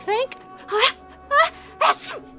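A performer in a radio drama sneezes several times in a quick series of four short wet bursts with brief gaps, up close and dry.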